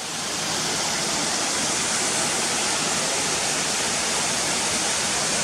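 Janet's Foss waterfall roars as a steady, loud, broadband rush of falling water, heard close up and continuous with no pauses.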